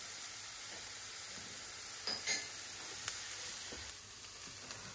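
Diced onions sizzle steadily in a pan as they caramelize with salt, a continuous even hiss with a few brief stir scrapes, close and moderately quiet, no talking.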